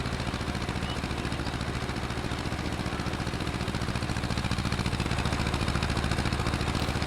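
Small tractor engine in Farming Simulator 22 driving along a normal road, a steady, continuous mid-pitched drone with rhythmic clatter that stays loud and close throughout.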